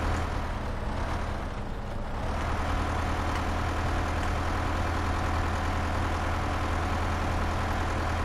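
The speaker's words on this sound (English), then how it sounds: "this ain't the top end of this tractor, and she sure is struggling to get any quicker than that" A tractor engine in Farming Simulator 15 drones loudly and continuously as it strains hauling a heavy load of stone uphill, a steady low rumble with no talk.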